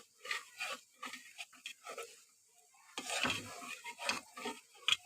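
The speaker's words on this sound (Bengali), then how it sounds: "চিনিটা যতক্ষণে না গলবে ততক্ষণে আমি নাড়িয়ে যেতে হবে।" Sugar being stirred in a pot until it melts for payesh, heard as soft, intermittent scraping and clinking strokes in bursts, fairly quiet and close, with no talking.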